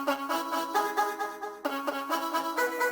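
A short, quick synth hook melody from the Glaze plugin plays over hip-hop chords in bright plucked notes with a steady rhythmic pulse, close and clear, with no talking.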